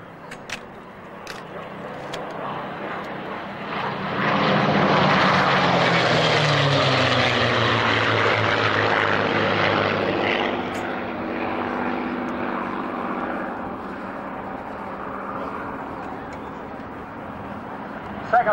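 A formation of four WWII propeller aircraft flies past at the Duxford Flying Legends airshow in 1997, their engine drone swelling to a loud, sustained roar and then slowly fading as they pass.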